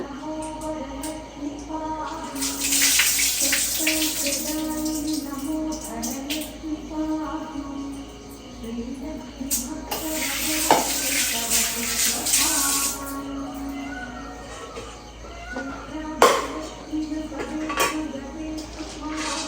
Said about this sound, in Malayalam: പിന്നെ വേഗത ഞാൻ പരിപ്പാട്ടോ നന്നായി കഴുകി എടുക്കണത്